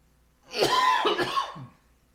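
A short burst of two or three harsh coughs close by, ending with a smaller throat-clearing hack.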